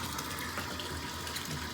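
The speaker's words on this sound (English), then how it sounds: "we're gonna continue rinsing this under this water, get it all rinsed out" A hunting backpack, previously blood-stained, being rinsed under a running tap, with a steady close wash of water gushing over fabric continuously throughout.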